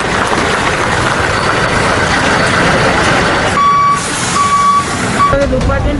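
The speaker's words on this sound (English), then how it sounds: "A lorry carrying gas arrived at the location." A gas-carrying lorry arrives in a Sri Lankan town, its engine rumbling steadily throughout, with repeated reversing beeps sounding near the end over a busy background where voices can be heard.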